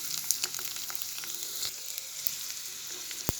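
Garlic pieces and dry red chillies frying in oil for a tempering, a steady close crackling sizzle with scattered small pops and a sharp tap near the end.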